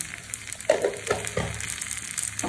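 Pumpkin frying in a pan, a faint sizzle broken by a few soft stirring scrapes, with no talking.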